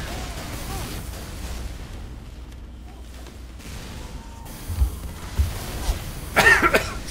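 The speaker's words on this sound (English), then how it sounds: "A little bit of a cough there." A character coughs in Team Fortress 2 during Halloween event gameplay, a few short, rough bursts in the latter half over low game ambience.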